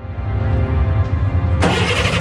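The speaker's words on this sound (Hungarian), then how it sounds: "Beindult a motor." A car engine turns over and catches at once, rising into a loud, steady idle over a low rumble.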